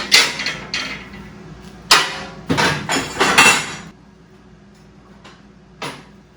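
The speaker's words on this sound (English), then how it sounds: "So I'm going to go ahead and crimp this on here so I get my measurement right." A fitting is crimped onto a tube for a 1928 Ford Model A roadster pickup hot rod, a run of sharp metallic clanks and clicks in quick bursts, then a quieter stretch with one last knock.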